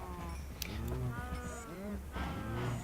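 Cattle in a Minecraft modpack game lowing in several drawn-out, overlapping moos, fairly close and loud, with no talk over them.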